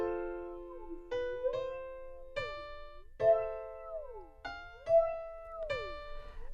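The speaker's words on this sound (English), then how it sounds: "We can come up with some really cool phasing sounds" Synth notes run through a BLEASS Phaser with feedback fed back through all-pass filters, each plucked tone swept by a whooshing, gliding phase shift; about eight separate hits fall in an uneven rhythm, clear and fairly quiet, with no talking over them.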